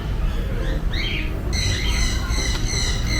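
A parrot at a zoo-like enclosure lets out several harsh squawks and chirps over steady background crowd noise, fairly close and moderately loud.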